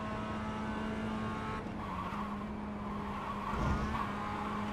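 A race car in a racing video game slides and skids, its tires squealing over a continuous engine whine for several seconds, with a brief louder scrub toward the end.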